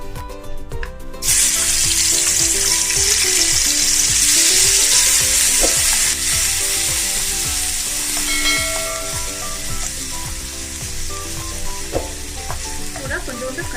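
Ingredients dropped into hot oil in a pan for a curd kuzhambu, a loud burst of sizzling and crackling that settles into steady frying with occasional stirring clinks.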